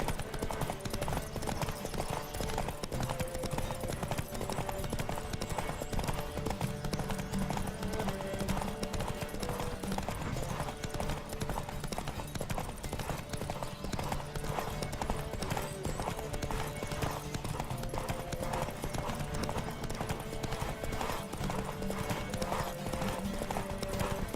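Steady clip-clop of a horse galloping in The Witcher 3: Wild Hunt, close and continuous, over a dense bed of music and game effects with an occasional whinny.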